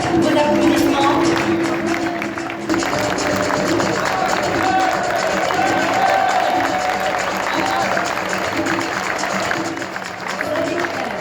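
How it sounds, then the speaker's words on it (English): Audience applause at a Solar Decathlon Africa closing ceremony, sustained dense clapping and cheering from a large crowd with a voice over the hall sound, lasting throughout. "Je vous prie, vos applaudissements."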